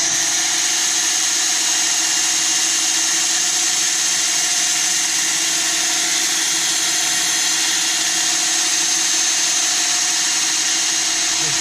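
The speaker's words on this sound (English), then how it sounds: "this is what sanding looks like" A wooden bowl of soaking-wet wood is sanded on a running wood lathe, giving a steady, loud motor drone with a continuous abrasive hiss that holds evenly throughout, with no talk.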